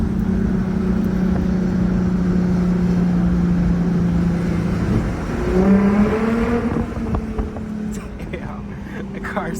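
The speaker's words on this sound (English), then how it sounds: "the car sounds sick under the tunnels" A loud straight-piped Lexus IS350 engine drones steadily, then revs up and climbs in pitch, its exhaust echoing and booming in a tunnel.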